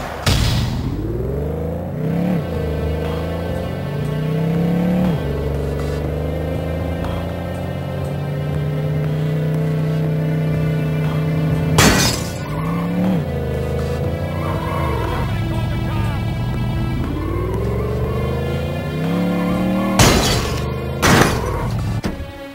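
Car in The Godfather on Wii driving through New York City, a steady revving engine drone with two sharp, loud crashes of shattering and clattering impact partway through, no talk.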